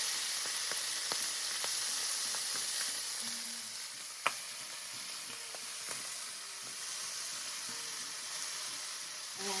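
Rapini (broccoli rabe) sizzles and fries steadily in a hot pan, a continuous hissing crackle with occasional stirring clicks and one sharp knock, no talking.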